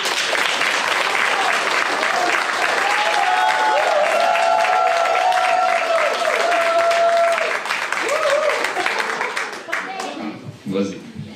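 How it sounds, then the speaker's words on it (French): Warm applause at the unveiling of the L'Éveil des Basques art project, dense clapping sustained for several seconds with voices and a child's speech mixed in, then thinning and fading near the end. "une bonne main d'applaudissements pour toi"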